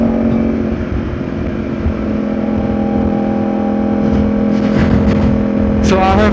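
Yamaha R1 motorcycle engine hums and revs while riding, a steady close drone with rising pitch toward the end, with wind noise and a rider speaking intermittently over it.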